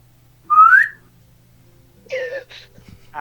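A single loud, rising whistle, up close for about half a second, followed after a pause by brief high voiced sounds and a short clatter.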